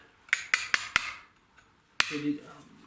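A hammer strikes a chisel carving numbers into stone: four quick, sharp metallic taps in a row, a short gap, then one more ringing strike, close and clear with no talking.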